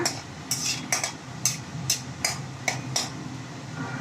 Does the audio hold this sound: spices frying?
yes